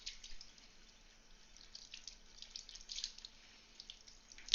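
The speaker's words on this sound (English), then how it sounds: "I'm going to go rinse these out so they have a chance to dry" Water runs from a sink tap while resin casting cups are rinsed under it, a faint steady splashing with small irregular drips and clinks, at low level.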